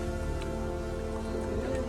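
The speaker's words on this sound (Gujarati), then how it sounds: "તો મિત્રો ફાઇનલી વરસાદ આવી ગયો" Steady rain pours down outdoors during a walking pilgrimage in Gir, a dense, even wash of drops with low rumbling underneath and no clear break across the two seconds.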